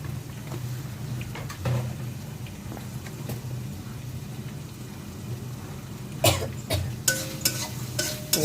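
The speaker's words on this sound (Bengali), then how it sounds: "ভালো করে নেড়ে নিচ্ছি।" Dry chili powder and spices being stirred in a hot cooking pan, a soft continuous scraping with a low hum beneath, then a burst of sharper clinks and scrapes near the end; no talking.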